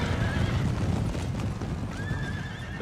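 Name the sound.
horses neighing in cavalry battle, Napoleon Total War video game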